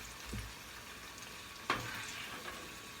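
Battered homemade fried pickles sizzle in hot oil in a pan, a steady soft frying hiss with a sharp splash around the middle as more pieces drop in, close and alone.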